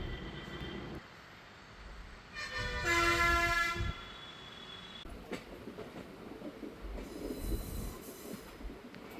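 The Coimbatore to Madurai Intercity Express rolls along the tracks after leaving Coimbatore Junction, with a steady rumble, rattling carriages, and a loud wheel squeal or horn-like tone rising midway.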